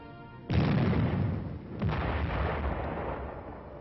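An M52 105mm self-propelled howitzer fires once at close range, a loud heavy boom with a rolling tail, followed about a second later by a second distant rumble as the report echoes and fades.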